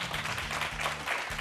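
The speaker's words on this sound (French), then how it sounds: "est-ce que vous pouvez déjà applaudir ces premières intentions sur ce plateau d'expression jeune?" Studio audience applauding on a youth talk-show set, a steady wash of clapping for the full moment with a low hum running underneath.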